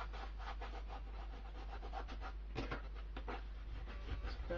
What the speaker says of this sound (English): burnish that edge